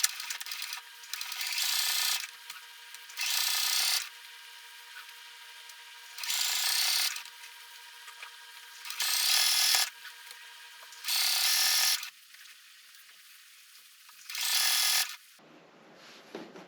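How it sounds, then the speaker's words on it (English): Sewing machine stitching back and forth across a hanger loop on a Christmas stocking, repeated short bursts of mechanical whirring separated by pauses, close and moderately loud. "when I'm doing that sewing, I'm probably going to go back and forth across the hanger piece a couple of times"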